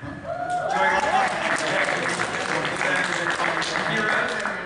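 Audience applause fills a WonderCon convention panel hall, a dense, steady wash of many clapping hands over several seconds, with a voice talking over it near the start.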